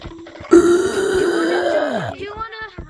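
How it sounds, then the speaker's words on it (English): A loud, long burp lasting over a second, let out right in someone's face, dropping in pitch at the end, followed by a short voiced sound. "Burping in people's faces."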